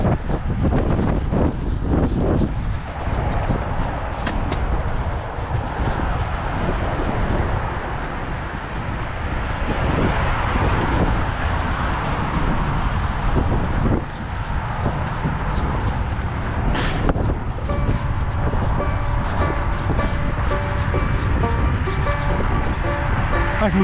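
Gusting wind of about 10 mph roars steadily against the microphone at Veterans Memorial Bicentennial Park, a loud, continuous outdoor rumble with surges throughout.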